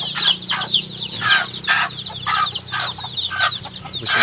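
Laying hens cluck repeatedly in short bursts, fairly close, with several birds overlapping against a low background hum; no talking.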